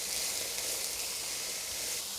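Mushrooms added to a pan of chicken frying on medium heat, cooked for a creamy Parmesan spaghetti with prosciutto, give a steady, close sizzle that holds evenly throughout with no voices.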